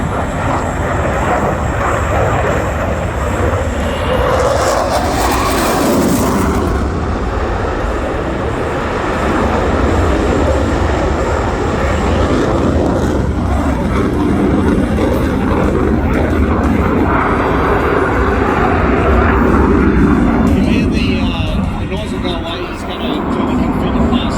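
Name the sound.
F/A-18 Classic Hornet jet flying display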